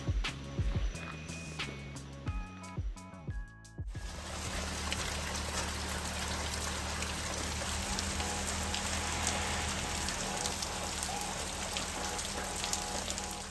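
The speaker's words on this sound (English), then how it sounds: "we ran into a bit of a hiccup with some rain coming through again" After some clattering knocks, rain comes down steadily on a surface, a dense continuous hiss of drops that holds evenly throughout.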